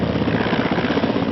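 Indian Air Force helicopter engine and rotor noise, a steady broadband roar held at constant loudness with no pauses or voices.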